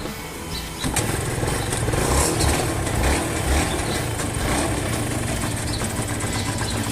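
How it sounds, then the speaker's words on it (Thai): A Yamaha TZM motorcycle engine catches about a second in and settles into a steady, close, loud idle with a rough two-stroke burble and slight revs. "เครื่องติดแล้วนะฮะ เครื่องนิ่มมากเลย"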